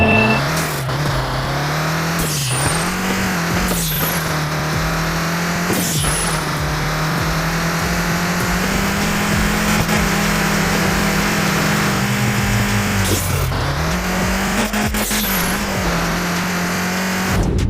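Racing car engine in a mobile racing game, a sustained loud drone with pitch rising and dipping as it revs, punctuated by brief squeals and skid bursts, with no talk over it.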